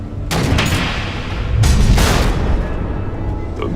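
Missile explosions in Batman: The Telltale Series, with a loud burst of booming blasts and crackling debris, a second heavy wave about halfway through, then rumbling decay.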